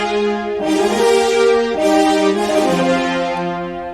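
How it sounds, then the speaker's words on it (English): Sampled orchestral horn section playing sustained harmonized chords that shift in steps, full and loud, with no voices. "the harmonization for the horn section, and it sounds like this"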